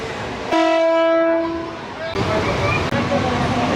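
A local train horn sounds loudly for about a second, followed by the rumbling clatter of the Virar–Dahanu slow local train moving close by.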